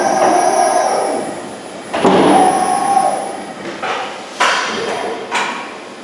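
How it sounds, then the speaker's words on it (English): A CIDAN Pro Z panel bender folds a 3-meter sheet of 4 mm steel, giving loud, close metallic clanks and thuds with screeching, rumbling stretches between the hits. "Here you see the Pro Z folding a 3 meter 10-foot sheet in 4 millimeter thickness"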